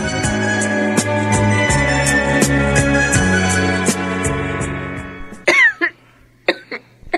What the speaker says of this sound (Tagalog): Kanina ka pa ubo ng ubo ah.